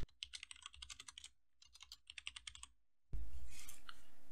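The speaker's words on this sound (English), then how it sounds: "type out your name" Keys clatter on a computer keyboard in two quick, close bursts of typing separated by a brief pause, followed by a sudden wash of steady noise.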